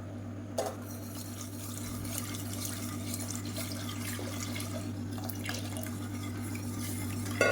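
Water pours steadily into a cooking pot of black rice and ragi porridge, a continuous splashing trickle over a low steady hum, with a couple of faint clinks.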